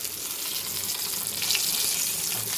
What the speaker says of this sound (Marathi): मच्छी फ्राय झाली.